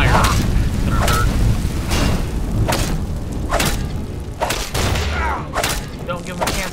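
Fiery spell blasts in modded Skyrim: a series of sharp booming bursts and thuds, roughly one every second, over a continuous roar of combat noise, moderately loud.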